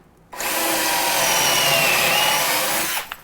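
A power drill boring pocket holes into wood runs as one steady, loud, high-pitched whine for about three seconds, starting and stopping abruptly, close up with no talk.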